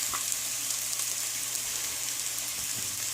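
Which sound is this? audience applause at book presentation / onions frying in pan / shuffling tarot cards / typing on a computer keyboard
onions frying in pan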